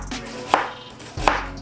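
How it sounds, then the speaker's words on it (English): A knife roughly chops an onion on a cutting board, giving two distinct, sharp thuds about three-quarters of a second apart, close and clear. "And I'm not doing anything small, just rough chops, rough slices."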